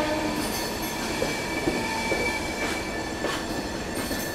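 A Garib Rath express hauled by a WAP 7 electric locomotive rolls along, steady rail roar with faint wheel squeal and soft clatter, heard close and continuous without speech.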